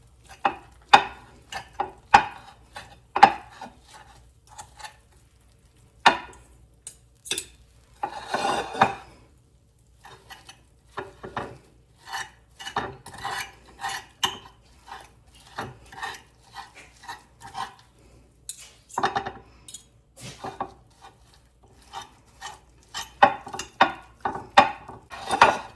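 Barbacoa meat being shredded in a crockpot, with forks scraping and clinking against the pot in irregular bursts of rasping and tapping, close and fairly quiet, no talking.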